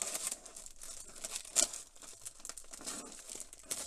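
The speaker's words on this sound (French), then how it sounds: "nous allons pouvoir venir déballer" Plastic packaging crinkles and tears as the parts of a Dino Megazord magazine model kit, from an Altaya partwork issue, are unwrapped close by, with steady rustling and a few sharper rips.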